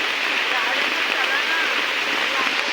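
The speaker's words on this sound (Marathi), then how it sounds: "थांब ना जरा पाऊस जाऊ दे" Rain pours near Dhanagar waterfall outside Badlapur, making a dense, continuous rushing hiss of falling water that stays loud and even throughout.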